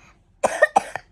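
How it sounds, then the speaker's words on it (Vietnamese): A child coughs a few times in quick succession, close to the microphone, with brief, harsh bursts and nothing else around them. "Con ho dữ lắm, phải không?"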